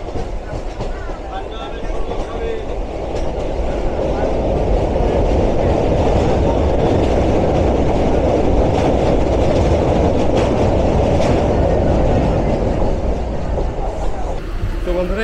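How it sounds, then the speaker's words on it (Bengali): Passenger train running after pulling out of Kalinarayanpur junction near Ranaghat, a loud steady rumble with rhythmic rail clatter heard from inside the carriage, continuous throughout with faint voices mixed in. "তো কালীনারায়ণপুর থেকে ট্রেন ছেড়ে দিয়েছে।"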